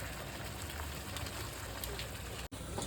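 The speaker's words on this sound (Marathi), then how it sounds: "हा बघा मसाला हळूहळू परतून होतोय" Mutton masala paste with black ground spice mix fries in a pan, giving a faint, steady, crackly sizzle like light rain throughout, with one brief dropout near the end.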